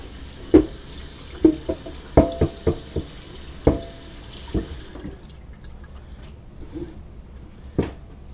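Tap water runs and splashes while a wooden cutting board from an O'Day 28 sailboat is washed at a sink, with several sharp knocks and clunks of the board against the basin, then the flow quietens near the end.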